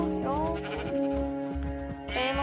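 Sheep in the Minecraft video game bleat in a string of wavering calls, several overlapping cries close by with game sounds underneath.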